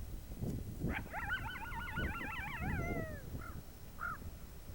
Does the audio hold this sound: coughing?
no